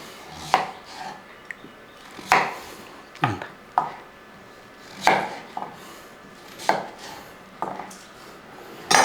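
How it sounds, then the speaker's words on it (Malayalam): Banana stem being chopped with a knife on a board, with sharp distinct chops at irregular intervals of about one to two seconds, close and clear, no talking. "ഇങ്ങനെ അങ്ങോട്ട് അരിഞ്ഞ്"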